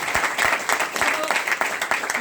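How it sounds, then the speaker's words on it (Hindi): An audience at a gathering at Sukhdev Dhaba in Murthal breaks into loud, sustained applause, dense clapping filling the room with a voice faintly underneath. "एक बार उनके लिए जोरदार तालियां"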